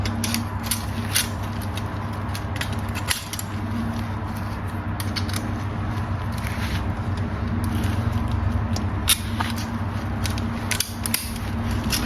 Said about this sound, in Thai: ให้ขันน็อตตัวล่างก่อนนะครับผม